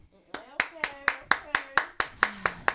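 Eleven sharp, evenly spaced hand claps in a steady rhythm, close and distinct, on a morning radio show with a faint voice murmuring underneath.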